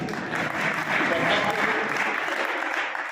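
A crowd claps steadily for a few seconds, a dense, even wash of applause without cheering.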